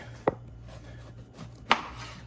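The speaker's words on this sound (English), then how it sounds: "So I'm gonna just show how I trim the peppers real quick." A knife cuts through bell peppers on a board in two sharp, close taps about a second and a half apart, with a quiet hum in the background.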